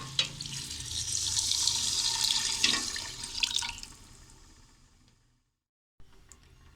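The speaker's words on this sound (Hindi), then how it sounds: "अभी इस पॉइंट पे मैं डालूँगी इसमें पानी" Water poured into a pot of besan badi curry masala, a steady splashing pour that builds and then tapers off before a brief quiet gap and a small clink.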